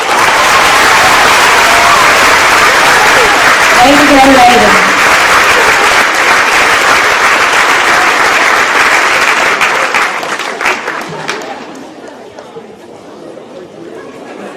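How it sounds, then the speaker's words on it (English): A crowd applauds a fifth-grade student at an elementary school awards day, with clapping, cheering and chatter, a voice calling out encouragement, and the noise thinning out over the final seconds. "Give a round of applause for Aiden Brooks"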